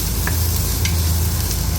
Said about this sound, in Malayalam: 3 സവോള അരിഞ്ഞു വെച്ച സവോള നമ്മൾ അതിലേക്ക് ഇട്ടിട്ട് നന്നായിട്ട് വഴറ്റി കൊടുക്കണം